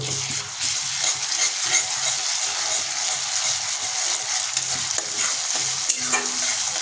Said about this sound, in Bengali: আদা রসুনের পেস্ট আমার তেলের উপরে দিয়েছি এটা ভালোভাবে খুঁজে দিয়ে নেড়ে নেব